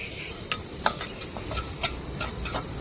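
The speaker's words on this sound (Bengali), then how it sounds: "প্রথমে আমি এই তিলটা ভেজে নেব হালকা করে" White sesame seeds roasting lightly in a pan give a faint, low hiss broken by a few sharp ticks and scrapes of a spatula against the metal.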